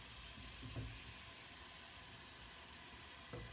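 Canned tomatoes sizzle in a chili pot, a faint, steady frying hiss with a couple of soft stirring knocks.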